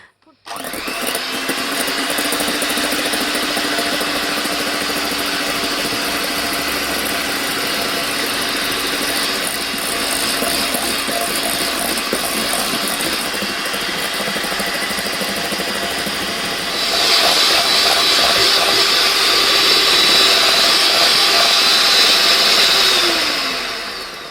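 Electric mixer whipping egg whites with sugar into meringue, a steady loud motor whir running throughout and growing slightly louder and brighter near the end, with no talking.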